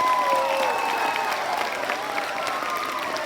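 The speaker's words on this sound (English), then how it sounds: "one more round of applause." A school assembly crowd claps for a guest at an anti-bullying pledge launch, sustained applause throughout with some cheering voices and whistle-like calls mixed in.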